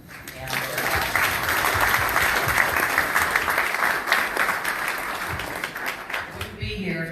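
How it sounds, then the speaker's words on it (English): An audience gives a steady round of applause for a coroner campaign team at a 2019 election event, sustained and moderately loud, with cheering voices mixed in and the clapping tapering off near the end. "how about a big round of applause for the campaign team?"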